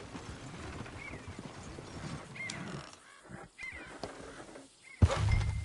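Horse hooves clip-clopping in the video game Red Dead Redemption 2, soft irregular steps at low level amid outdoor game ambience with occasional bird calls, ending in a sudden louder thump.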